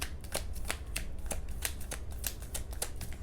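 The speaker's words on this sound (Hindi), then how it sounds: "एक लास्ट शफल करूँगी" Tarot cards shuffled by hand at close range, a quick rhythmic run of crisp riffling snaps and flutters, loud and alone without talk.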